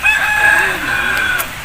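An Aseel rooster crows nearby, one long, loud, strained call that trails off, with faint background noise around it.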